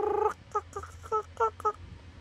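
A human voice imitates a chicken or fowl with a series of short clucking calls in a quick, uneven rhythm, close and clear, with no other talk.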